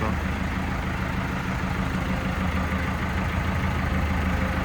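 A new 2024 Basak 2090 tractor's diesel engine rumbles steadily and low at idle, constant and close, filling the whole stretch with an even mechanical drone.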